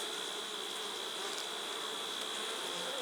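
A dense, steady drone of many bees buzzing together in a hive, constant and close, with no voices.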